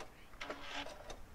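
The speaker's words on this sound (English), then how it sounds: "I'm going to backstitch." A sewing machine backstitches through Minky fabric in short, quiet mechanical bursts of stitching, close by and alone, with brief pauses between runs.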